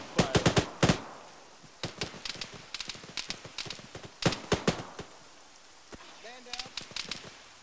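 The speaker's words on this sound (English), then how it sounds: "Gunfire coming to the right." Rapid bursts of Arma 3 video game gunfire crackle in quick volleys, with short pauses between them and a few scattered single shots, no talking over it.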